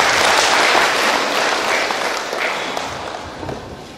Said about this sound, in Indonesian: Tepuk tangan untuk Pak Camat.